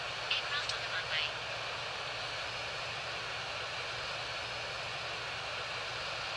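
A steady, even roar of Lufthansa A340 jet engines in a flight simulator game holds unchanged throughout, with a brief faint voice near the start.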